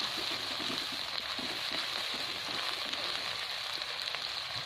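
Chopped onion with garlic-ginger paste frying in a pan for a spicy masala fish curry, giving a steady, even sizzle with faint crackle throughout and no talking.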